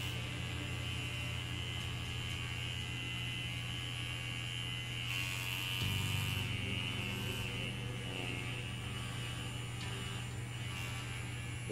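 A heavy Cobra tattoo machine buzzes steadily and loudly throughout, a continuous electric hum whose pitch drops slightly midway as the needle is pressed into skin.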